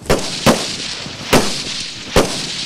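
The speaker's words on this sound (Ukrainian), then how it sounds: "Кожний курсант робить 3 одиночних постріли і 5 чергою." Cadets fire live rounds at a firing range, four sharp single gunshots at uneven intervals, loud and near, each followed by a short echoing decay.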